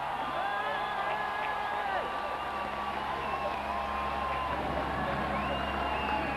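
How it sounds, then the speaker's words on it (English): A velodrome crowd cheers and whoops at the finish of the 2012 Paris–Roubaix cycling race, a dense, steady roar of many voices with a commentator's voice layered over it. "Listen to the crowd."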